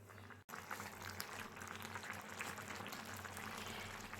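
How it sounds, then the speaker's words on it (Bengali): Water boils steadily in a pot with jackfruit, a dense, constant close bubbling and hiss after a brief dip at the start, with a low hum underneath. "এখন আমি জলটাকে কিছু সময়ের জন্য ফুটতে দেব, আর এঁচড়টাকেও একটু মাখো মাখো হতে দেব"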